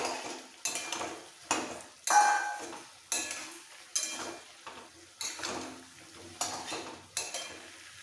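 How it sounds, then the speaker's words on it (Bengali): Fried potato chunks being stirred and pressed into masala in a metal pan for dhaba-style aloo dum: repeated scraping strokes and clinks of a spatula against the pan, roughly one each second, close and fairly loud with a faint sizzle underneath. "এই সময় ভেজে রাখা আলুগুলো সব দিয়ে আবারও ভালো করে কষিয়ে নিতে হবে"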